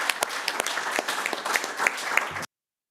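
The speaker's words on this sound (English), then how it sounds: "just a round of applause" An audience at a council meeting gives a round of applause, steady clapping from a modest crowd with some individual claps standing out, ending abruptly.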